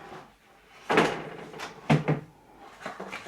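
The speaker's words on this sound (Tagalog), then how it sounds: "Drawer." A wooden drawer built into a baby crib slides open and shut, giving two or three close, solid thumps and rolling scrapes with a short gap between them.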